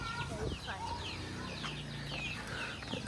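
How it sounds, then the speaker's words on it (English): Chickens clucking on a jackfruit farm, scattered squawks and clucks at close range over a busy background of other birds and farm ambience. "And the chickens."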